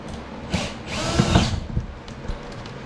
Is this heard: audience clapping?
no